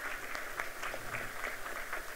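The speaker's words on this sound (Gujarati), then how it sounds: "આપણે સૌ જોરદાર તાળીઓ સાથે વધાવી લેશું માનીય મુખ્યમંત્રીશ્રીની ઉપસ્થિતિને" An audience at a CREDAI property show claps to welcome the Chief Minister, a dense, even patter of many hands that holds steady across the short stretch and sounds muffled and somewhat distant.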